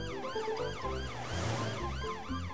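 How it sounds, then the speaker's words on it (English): A toy police car siren wails in a steady repeating up-and-down sweep, loud and alone with no talk, in a children's stop-motion cartoon scene. "It's Police Officer Panda in his police car coming to see if everyone's okay."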